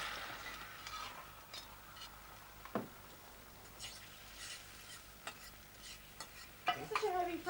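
Heavy frying pan cooking in a home kitchen: a soft steady sizzle with occasional scrapes, clinks and knocks as it is handled, faint and close, with no talk.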